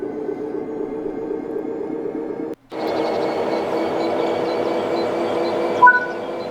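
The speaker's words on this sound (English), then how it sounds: "Okay, we can now move the train." EWS Class 66 diesel locomotive in Train Sim World 3 pulling away, a steady low engine drone and rolling rumble that swells after a brief gap, with a short high tone near the end; no talk.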